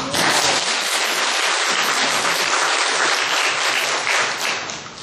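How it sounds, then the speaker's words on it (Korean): A church congregation applauds the choir, a dense, steady burst of clapping that fills the room for several seconds before easing slightly at the end. "박수 한번 해주세요."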